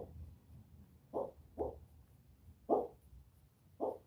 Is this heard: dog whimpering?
yes